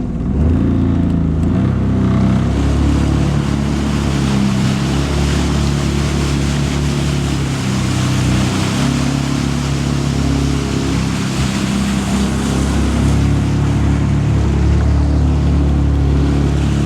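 Jet ski riding on the sea off South Australia, a loud, steady engine drone with rushing water and wind buffeting close to the microphone, continuous throughout with no voices.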